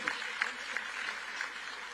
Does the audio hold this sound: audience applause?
yes